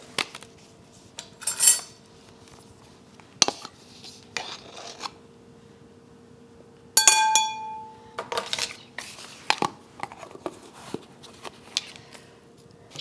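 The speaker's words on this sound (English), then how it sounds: "Next comes 1 tablespoon of baking powder from here." A tablespoon of baking powder being scooped and leveled into a mixing bowl for skillet applesauce muffin bread, with sharp metallic clinks of spoon on bowl separated by quiet gaps, close up and without speech.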